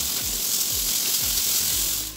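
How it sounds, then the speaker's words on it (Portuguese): Slices of bacon frying in a pan on a home stove: a steady, bright sizzle and hiss that runs throughout, with faint, regular low thumps beneath and no voices. "eu vou fritar aqui o nosso bacon"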